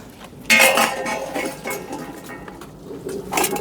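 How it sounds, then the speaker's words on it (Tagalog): Plates, spoons and dishes clink and clatter close by at mealtime, a burst of metallic scraping and tapping that continues unevenly for a few seconds, alone without talk. "Asan na yung pinggan mo Tagpi?"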